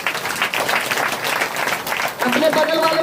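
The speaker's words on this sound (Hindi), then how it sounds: "जोरदार तालियां बजाएंगे।" A church congregation at a prayer service breaks into loud, sustained applause, a dense wash of many hands clapping close by, with a voice heard over it near the end.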